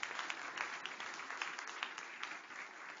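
A church congregation claps together in sustained, dense applause for about three seconds, steady and moderately loud, with a faint voice or two mixed in.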